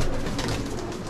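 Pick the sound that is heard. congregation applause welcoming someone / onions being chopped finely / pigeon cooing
pigeon cooing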